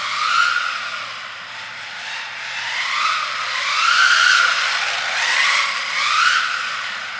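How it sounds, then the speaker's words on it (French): FeiYu Scorp mini RC car drifting through a corner, a high whining motor and tire squeal that rise and fall in repeated sweeping waves, fairly loud and close, with no talking. "C'est ce que je préfère, hein, c'est passer tout le virage en drift."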